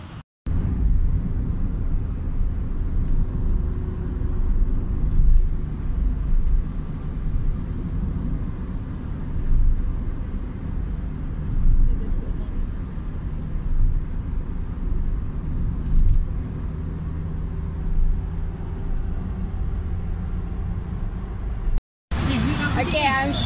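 Busy city traffic in Jakarta, Indonesia, makes a continuous low rumble of engines and passing vehicles, with a voice talking over it much of the time.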